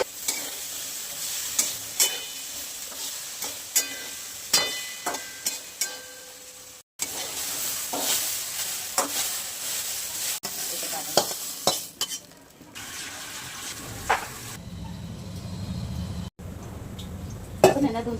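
Okra (bhindi) cooking in a covered pan, a continuous low sizzle broken by clinks and scrapes of utensils against the pan.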